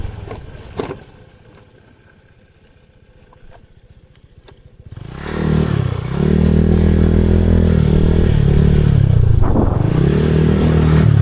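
A motorcycle engine roars steadily up close over rattling, scraping clatter on a rough road, after a quieter stretch with a few sharp knocks at the start.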